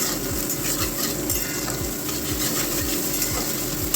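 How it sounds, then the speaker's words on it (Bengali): Onion and garlic sizzle steadily in a pan, with a utensil stirring at a regular pace, close and constant, no voices. "হ্যাঁ, পেঁয়াজ রসুনটা একটু ভালো করে ভেজে নিই আমরা"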